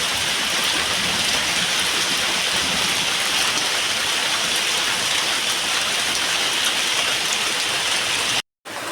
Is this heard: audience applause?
no